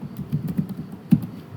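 Computer keyboard typing, with a quick run of close, crisp key taps and one louder strike near the end, no voices.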